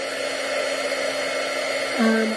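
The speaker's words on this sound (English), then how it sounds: "This is a heat tool." A heat gun blowing a steady, loud whooshing hum as it heats white embossing powder, the motor pitch dropping slightly near the end.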